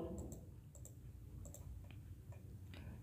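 Light taps on a Samsung phone's on-screen keyboard, a few soft, irregular clicks close by over a steady low background hum, with no talking.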